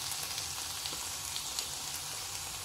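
Tamarind frying in a pan alongside brinjal and peanut chutney ingredients, a steady dense sizzle throughout with faint stirring, no talking.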